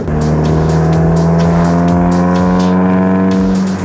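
A car's engine drones loudly and steadily while driving, a strong low hum with many stacked tones holding a near-constant pitch, close and continuous with no voices.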